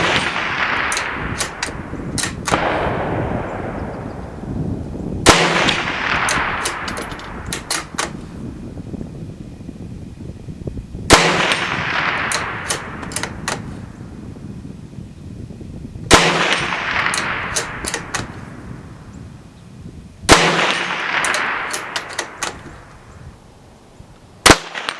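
Four loud, well-spaced shots from a Savage 93 bolt-action rifle in .22 Win Magnum firing Federal Premium 40 grain full metal jacket target ammo, each a sharp crack trailing into a decaying outdoor echo, with a fifth report cut off at the end.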